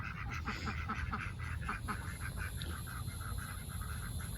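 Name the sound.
duck quacking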